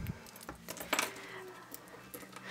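Small metal key from a junk journal kit jangling and clinking in a few quick bright bursts, close and fairly quiet, with faint handling noise between.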